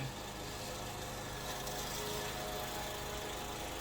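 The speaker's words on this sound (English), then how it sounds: "I do, again, apologize for that lawnmower" A steady mechanical engine drone hums continuously in the background, like a lawn mower running outdoors at a moderate distance, with no talking.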